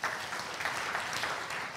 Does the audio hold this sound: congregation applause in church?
yes